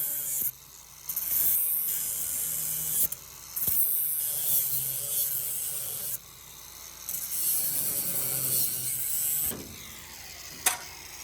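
Rotisserie mount being unbolted from a truck unibody: a close, steady ratcheting wrench with rasping metal clicks and a few brief pauses, ending in a sharp metallic clack.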